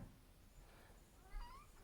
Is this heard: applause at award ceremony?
no